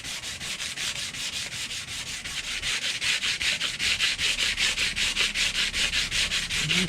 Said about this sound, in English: took the file and made sure I opened them all up